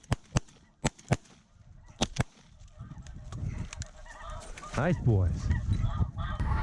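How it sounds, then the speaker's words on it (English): Snow geese honk as they fly in during a hunt in Canada, a dense chorus of overlapping calls building louder toward the end, preceded by several sharp clicks and a brief spoken remark. "Birds are coming. They're flying like crazy."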